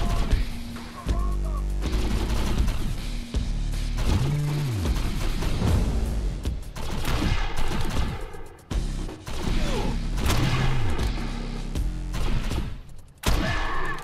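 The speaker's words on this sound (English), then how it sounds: "Apparently, I'm not shooting high enough." Gunfire in the video game Defiance: rapid bursts of automatic shots and heavy booming blasts with whooshing effects and mechanical clatter. The shooting comes in loud repeated volleys separated by short pauses.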